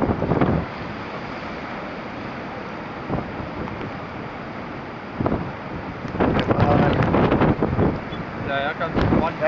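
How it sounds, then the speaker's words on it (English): Ocean waves surge and break near a shipwreck, a rolling wash of surf with wind buffeting the microphone and bursts of louder crashing toward the end, while people talk over it. "Watch this wave, watch this wave."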